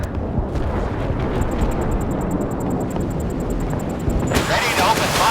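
An explosion from a hit in the naval combat video game Force of Warships, a loud continuous roaring rumble that holds throughout, with a sharp brighter burst near the end.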